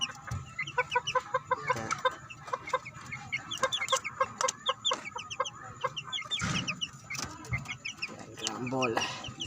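A flock of month-old pet chickens clucks and peeps busily while being fed, a continuous chatter of many birds close by, with a person talking quietly among them.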